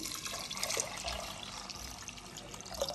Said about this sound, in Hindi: तो इसके अंदर लगभग मैंने 2 चम्मच नमक डाल दिया है, पानी ऐड कर रही हूँ।